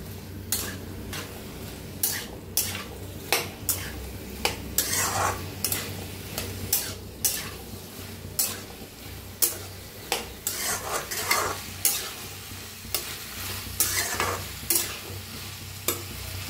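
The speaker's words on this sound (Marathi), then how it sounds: "बटाट्याला बी चांगलं असं तेलात भाजायचं" Potatoes fry in hot oil in a pan, stirred repeatedly with a utensil that scrapes and clinks against the metal at a steady rhythm, over a continuous close sizzle with no talking.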